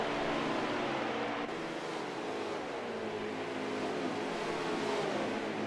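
Onboard engine drone of a sim race car at Chicagoland Speedway during a Canadian eMotorsports Series oval event, a steady loud whine with rising and falling pitch held throughout, no voices.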